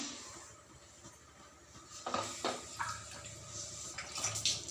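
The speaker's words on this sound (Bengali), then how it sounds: "মিষ্টির জন্য 4 কাপ জল দিচ্ছি, দিয়ে দিলাম" Water is poured cup by cup into a pan to make sweets. Soft splashing and running water rise in several short pours after a quiet start, close and fairly faint, with no voices.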